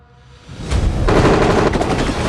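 Gunfire in a Walking Dead scene: a dense, sustained burst of automatic shots swelling in after a quiet start and holding loud for about two seconds, with no talk.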